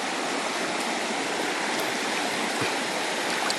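A wide river flows as people wade across it, a loud, steady rush of broadband water noise that fills the whole stretch with no break.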